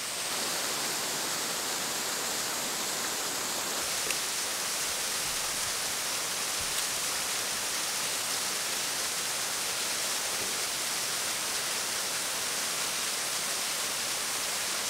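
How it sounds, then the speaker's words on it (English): Steady broadband rush of a natural spring-fed waterfall pouring into Lake Travis, heard as a constant, even wash of falling water with no pauses, close and moderately loud, and no voices over it. "there are basically two giant natural springs or waterfalls that dump right into Lake Travis"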